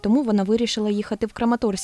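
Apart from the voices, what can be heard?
No everyday noise stands out behind the speech.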